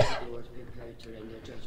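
A person with a sore throat gives a short, harsh cough at the very start, followed by a quieter throaty murmur.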